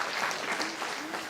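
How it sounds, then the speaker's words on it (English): An audience at a talk breaks into brief, dense clapping, a short burst of many hands applauding together in a hall. "See, uneducated people are clapping."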